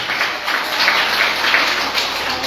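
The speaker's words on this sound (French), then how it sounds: "Applaudissez-moi." Church congregation at a Sunday service clapping and applauding, a loud, steady wash of many hands that continues without break.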